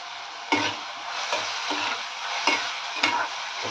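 Spring onion greens with masala and tomato sauté in a pan, a steady frying hiss broken by several distinct spoon-stirring scrapes and knocks at irregular intervals, close up with no voices.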